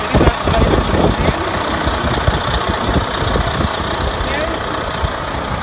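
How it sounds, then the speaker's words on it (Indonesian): A Freightliner Cascadia truck's engine idles with a steady, dense rumble and knocking vibration, close and constant throughout, while someone talks over it briefly. "mesinnya saya sudah hidup sekarang ya"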